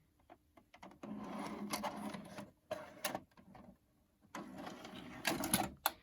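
A VHS tape is inserted into a Sharp VC-471 VCR, followed by mechanical whirring and clicking from the loading mechanism, close and quiet, with intermittent bursts of motor hum separated by short clunks and pauses.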